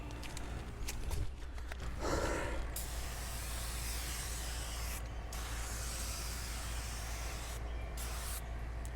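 Hybrid Solutions Wash & Wax foam sprayed onto a car in direct sun, a steady close hiss of spraying that runs almost continuously with brief pauses between passes.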